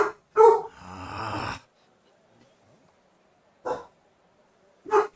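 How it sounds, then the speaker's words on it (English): A dog barks in short separate bursts: a pair of barks close together near the start, then single barks a few seconds apart, with quiet between them. "you might hear Dean barking down there"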